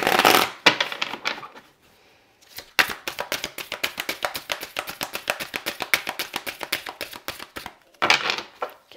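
Tarot cards being shuffled during a card reading, a quick run of crisp riffling flutters in steady rhythm, close and clear, with short pauses before and after and no voices.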